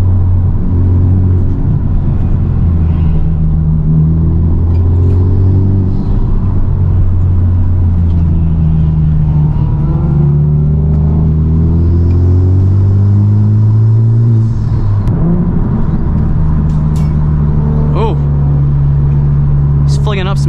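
A Honda Civic Type R engine revs and drops through gears on a mountain drive, rising and falling pitch sweeps of rev-matched downshifts under a steady road rumble, with a person talking over it.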